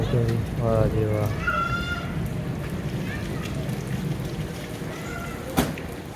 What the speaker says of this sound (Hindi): ये देख कितनी बारिश आ गई बहुत तेज बारिश आ गई है